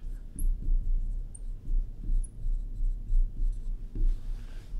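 Pen or marker writing out a probability expression on a board or paper, a steady series of close scratchy strokes in short rhythmic bursts, with no talk over it.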